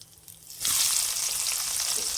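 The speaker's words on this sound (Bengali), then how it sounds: "তো পেঁয়াজটা ভেজে নেব" Chopped onions hit hot oil and break into a loud, steady sizzle that carries on to the end, with no talking over it.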